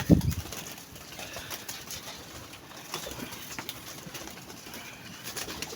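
Teddy pigeons, a crossbred breed, coo softly with a burst of wing flapping at the start, followed by low murmuring calls against a faint background.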